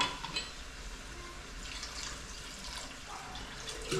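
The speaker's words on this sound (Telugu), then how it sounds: "ఇప్పుడు కొంచెం నీళ్ళు వేసుకుని మళ్ళీ ఉడకాలి" Water is poured into goat intestine and lung curry cooking in a pan, a soft continuous splashing and gurgling pour heard up close, fairly quiet and steady throughout.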